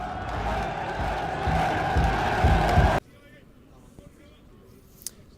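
Home crowd at a Cardiff Met men's BUCS Super Rugby match roaring after a 38-10 win over Swansea, a loud dense wall of cheering for about three seconds before cutting abruptly to near quiet.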